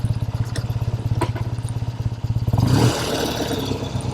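A vintage Triumph TR6R 650 motorcycle engine idles close by with a rapid, lumpy thump, then revs up briefly before settling.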